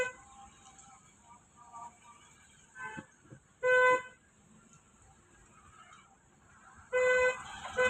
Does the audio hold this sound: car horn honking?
yes